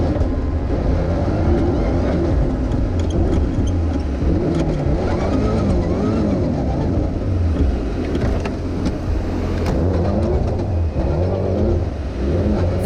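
A rally car races through snow at Rallye Perce Neige, its engine loud and close with continuous revving and shifting pitch, steady throughout with no pauses.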